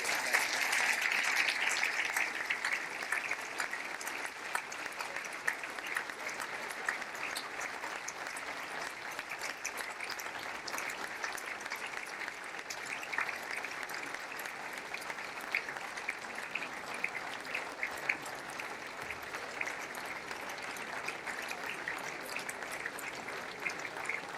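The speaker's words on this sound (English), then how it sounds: "Big round of applause, please, as we welcome them into the ballroom" Sustained audience applause fills a hotel ballroom at a Chinese New Year event as guests are welcomed in, a dense, steady clapping from a large crowd lasting throughout.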